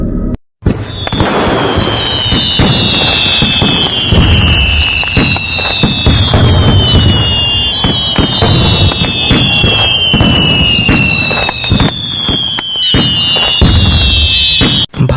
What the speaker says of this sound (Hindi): हम हंसते हंसते पटाखे फोड़ रहे थे